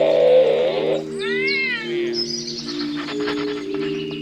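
A human voice imitates a cat's meow with drawn-out, wavering tones over a steady background hum.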